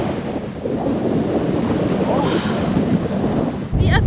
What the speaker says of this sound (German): Oh, da kommt so eine Welle.